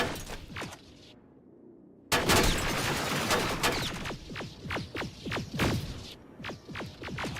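Gunfire in a Terminator video game: dense bursts of sharp shots and blasts after a brief lull, loud and close, in rapid irregular volleys.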